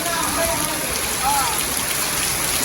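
Steady rain falling in Jaffna, a dense even hiss of drops with a faint high whine above it, continuous throughout.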